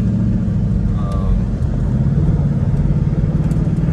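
A 2021 Ford Mustang Mach 1 with Handling Package and quad exhaust drives in traffic in sport mode, its engine giving a steady, deep, loud rumble heard from inside the car.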